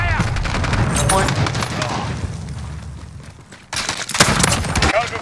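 Gunfire bursts through a Call of Duty Modern Warfare match, rapid automatic volleys and sharp shots close and loud, with in-game voices heard among the firing.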